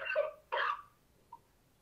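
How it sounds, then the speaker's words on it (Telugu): Two short, loud coughing bursts from a person on a phone call, close to the microphone, followed by a faint small sound and quiet. "నువ్వే మాటి మాటికి దగ్గుతున్నావు."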